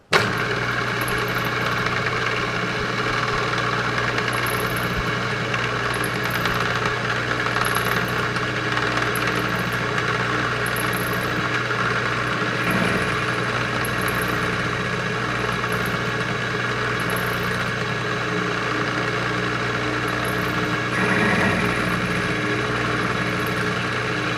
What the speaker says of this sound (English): put in just a one of the countersinks I've got and just run it around and chamfer the top edge.